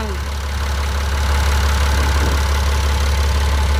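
The diesel engine of an L90F wheel loader idles close by during a fuel system test with a deep, steady rumble that grows slightly louder partway through.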